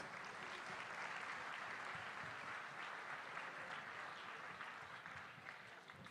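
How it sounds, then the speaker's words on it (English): Large hall audience at an inaugural assembly ceremony in Nusa Dua, Indonesia, giving dancers a sustained round of clapping, a dense, faraway wash of applause with no break, fading slightly near the end. "Let's give a round of applause once again to the dancers."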